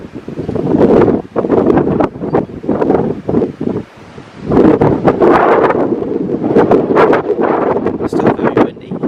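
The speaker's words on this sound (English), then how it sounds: "Still very windy." Strong wind buffets the microphone at the ruins of St. Benet's Abbey in Norfolk, roaring in long loud gusts with a brief lull midway, no talk heard.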